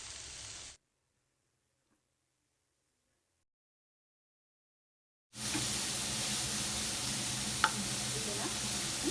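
Sliced onions for a fish gravy fry sizzle in hot oil, a short burst of frying, then a silent gap, then a steady loud sizzle that continues with slight crackles.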